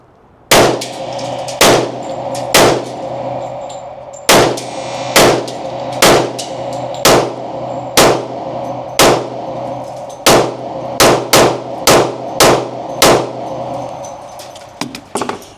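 Loud, sharp gunshots from an M&P 10mm pistol firing Sig and Federal ammunition, around sixteen close reports spaced irregularly, some in quick pairs, each with a brief ringing tail and no talking.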